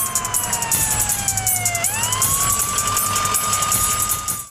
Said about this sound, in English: And then comes the ambulance